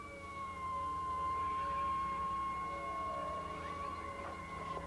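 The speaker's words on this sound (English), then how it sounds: "An ambulance and fire truck pass by the burning shop, unwilling to stop because of the danger." Ambulance and fire truck sirens wail steadily as the vehicles pass a burning shop during the 1992 Los Angeles riots, sounding fairly distant under a wash of background noise.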